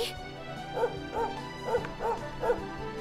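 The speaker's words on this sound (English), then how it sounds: "What are you barking at?" Dog barking in the Dragon Quest XI role-playing game, about five short yips at a steady rhythm, each around half a second apart, set against game music and battle sounds.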